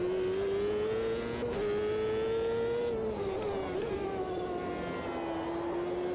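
A Reynard 98i Ford open-wheel race car in Automobilista 2 at Watkins Glen screams at high revs and drops through gears, each downshift giving a quick blip. The close engine whine stays steady and loud, with no talk.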